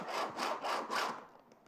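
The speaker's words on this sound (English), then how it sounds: "I'm just going to sharpen our scissors a bit more." Four quick rasping strokes of scissors being sharpened, close and rhythmic, fading out after the last pass.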